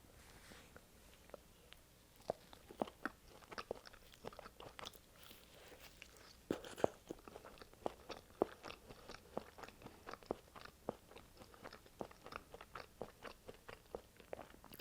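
Crunchy A&W fast-food fries are chewed up close in a quiet mukbang setting, a steady series of crisp bites and crunches at an even rhythm, with no talking.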